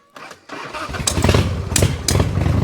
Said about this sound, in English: that's a cold start